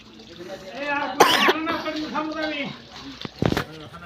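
A person with a cold coughs sharply twice, loud and close, amid ongoing talk in an outdoor farm setting.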